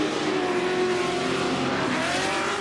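A drift car rips through the course at Formula Drift Orlando, its engine revving hard and steadily with tire squeal, loud and close throughout a short burst, no talking over it.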